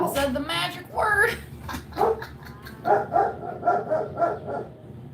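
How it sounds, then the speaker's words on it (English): A rescue dog barks in the background, several short, loud yips and barks in quick succession while someone talks over them. "My doggy in the background. Oh, there she goes."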